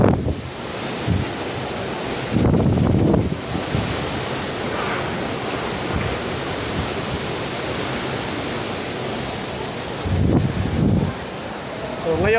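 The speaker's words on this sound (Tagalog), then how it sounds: "Napakalakas ng bugso at napakalakas ng hangin." Typhoon-strength wind from Super Typhoon Rolly in Camarines Sur, Bicol, roars steadily with heavy gusts buffeting the microphone, surging in loud bursts over a constant rushing noise.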